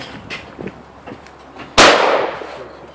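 A shotgun fires at a clay pigeon on a shooting ground: one loud, sharp blast midway with a decaying tail, after quiet rustling and faint voices.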